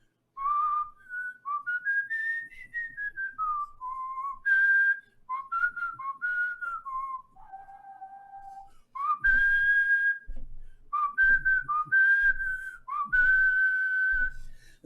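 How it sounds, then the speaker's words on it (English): A person whistles a tune alone in a quiet room: clear, sliding melodic phrases separated by short breaths and pauses. "I wish I could whistle that and play that at the same time"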